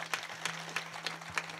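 An audience at a Marathi kirtan claps in a quick rhythmic pattern, several distinct claps standing out over a low steady hum, faint and close.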